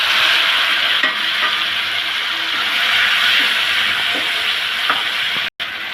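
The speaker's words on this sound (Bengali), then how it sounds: "ভালো করে নাড়াচাড়া দিব" Boiled jackfruit seeds and pointed gourd are stirred in a pan with whole cumin, giving a steady close scraping and faint sizzle, with soft clicks of the spoon against the metal and no one talking.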